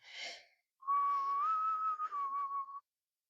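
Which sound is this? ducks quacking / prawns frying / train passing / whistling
whistling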